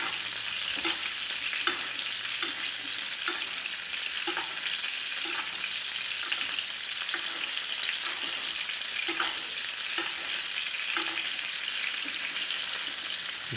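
An NY strip steak sizzles in a cast-iron skillet as its fat cap renders: a loud, continuous frying hiss with occasional sharper spits and pops, heard alone.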